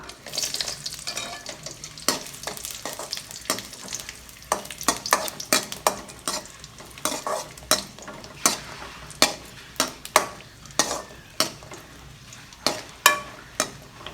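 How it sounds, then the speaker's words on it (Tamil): Cashews and raisins fry slowly in a pan over a low flame, a soft steady sizzle broken by a long run of sharp, close spoon scrapes and taps that come quicker and louder toward the end. "கொஞ்சம் ஸ்லோ ஃப்ளேமில் வச்சு அப்படியே மெல்ல முந்திரியை நல்லா வறுத்துக்கலாம்"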